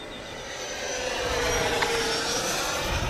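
F-16 Falcon 80mm electric ducted fan RC jet in flight, a steady loud whooshing turbine-like whine that holds close and constant throughout, with no voices.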